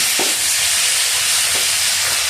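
Onions and tomato frying in a pan for a fish, potato and bean curry, giving a steady close sizzle and hiss with a couple of faint stirring clinks and no talk.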